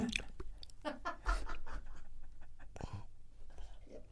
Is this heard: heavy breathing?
yes